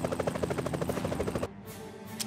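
Helicopter from the wargame People's General, a steady rhythmic rotor chop for about a second and a half before cutting off, leaving a quieter whoosh behind.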